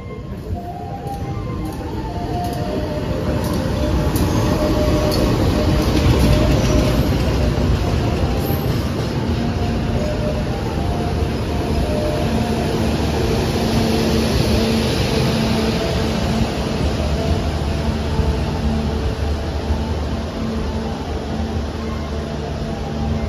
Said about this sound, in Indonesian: Nih yang sudah masuk di jalur 2 stasiun Probolinggo, kereta api Tawang Alun